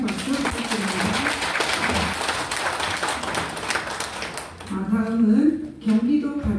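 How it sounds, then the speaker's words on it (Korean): Audience at a Korean public hearing on mental health policy applauds steadily for several seconds, moderately loud, before the clapping fades and a voice over a public address system takes over near the end. "배정태 회장님께 다시 한번 힘찬 박수 부탁드립니다"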